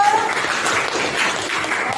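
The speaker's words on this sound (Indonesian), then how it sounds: "Kita berikan tepuk tangan dulu." A class of people clapping together in steady, dense applause that holds at an even level for the whole moment.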